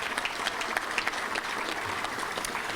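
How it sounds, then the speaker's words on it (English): Steady applause from a Little Rock Touchdown Club audience greeting Judge Bill Wilson, a dense, even patter of many hands clapping at moderate distance that carries on without a break. "Let's give him a round of applause."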